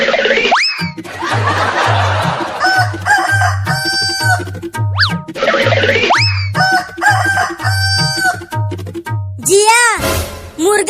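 A rooster crows loudly several times, mixed with clucking and bouncy comic sound effects over a steady rhythmic musical backing.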